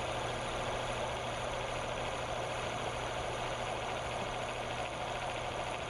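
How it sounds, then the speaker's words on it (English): Electric motor driving a bearing test rig under load with synthetic oil, a steady dense mechanical hum and whir holding constant and loud with no pauses. "Now we'll turn on the motor and add the load."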